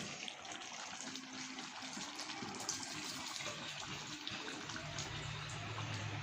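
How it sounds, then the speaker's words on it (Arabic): Soaking liquid is poured into a pot of sprouted fava beans, a soft continuous watery rush and splash that stays fairly even throughout, with a low rumble building toward the end. "هنزل دلوقتي بالشرب"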